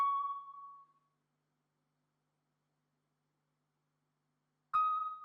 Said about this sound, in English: Then next, another like kalimba sound.